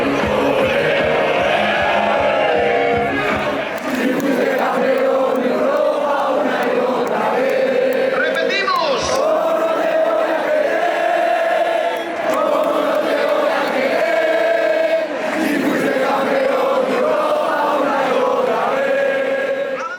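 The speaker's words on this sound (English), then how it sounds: "The chants, the songs, the fans climbing trees, the entire experience was a once-in-a-lifetime thing to witness" Real Madrid fans at a championship parade in Madrid fill the air with a continuous, loud, dense roar of chanting and singing that swells and dips without pause.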